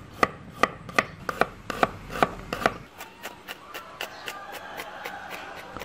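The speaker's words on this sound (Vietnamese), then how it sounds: "mình sẽ cắt lát mỏng hết và băm chung" A knife chops rapidly on a cutting board through onion and garlic, a steady run of crisp taps that soften into quicker, lighter mincing strokes.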